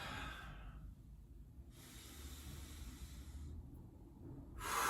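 Slow, deep breaths during a yoga side-plank hold with the hip lifted, a soft hiss of air in and out, close and quiet with a pause between breaths.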